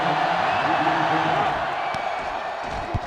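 Stadium crowd noise from the NCAA Football 2005 video game, Alabama against Tennessee, swells as a steady roar of cheering fans rising under a play-by-play commentator's voice, with a brief sharp accent near the end.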